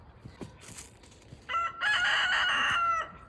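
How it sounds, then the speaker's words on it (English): A rooster on a farm lets out a single loud, close crow lasting over a second, rising from a short opening note into a sustained harmonic call, after quieter farmyard clucks and rustling. "That's the rooster."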